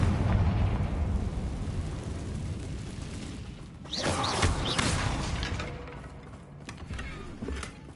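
Fiery spell blast in the Hogwarts Legacy video game, a loud sustained rumbling explosion that swells midway with a crackling burst, then rolls on and fades with lingering debris noise.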